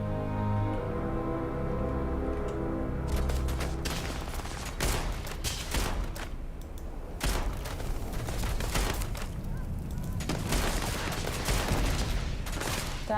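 Bursts of short-range gunfire in the video game Starfield, dense rapid shots and booms over a droning game soundtrack, loud and continuous for most of the stretch.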